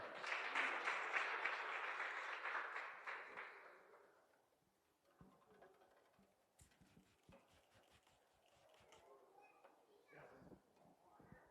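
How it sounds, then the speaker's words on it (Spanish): Congregation at an evening church miracle service applauds a brother stepping up to preach, a dense, moderately loud wash of clapping for about four seconds that fades out before scattered sounds and a voice begin. "Lo recibimos con un fuerte aplauso"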